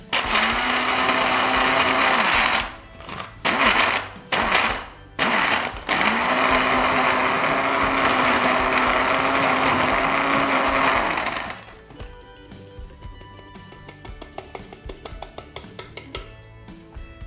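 A kitchen blender grinds chocolate biscuits into fine powder for a lemon mousse crust, running loud and steady with a few brief stops and restarts, then cutting out and leaving quiet clinking and handling noises.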